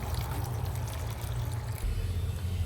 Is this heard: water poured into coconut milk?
yes